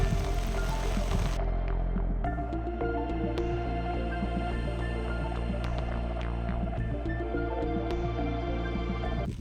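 Steady rain falls on a surface on a misty, cold hillside in the Urumbi hills, a continuous hiss with scattered drips and a low hum underneath.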